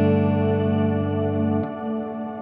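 Guitar through a BOSS RV-6 reverb pedal with the tone turned down, producing a thick shimmering wash of lower-octave tones that swells, then changes as a new note enters and sustains.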